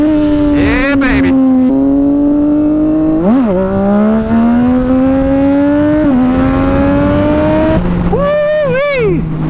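A 2010 Triumph Daytona 675 sport motorcycle revs hard and loud up close, its engine pitch rising and falling through several pulls, with sharp exhaust pops and crackling backfires on the throttle lift-offs.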